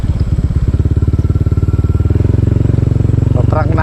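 A motorcycle engine chugs loud and close on a farm at night, a steady rapid putter that holds throughout, with a voice briefly heard near the end.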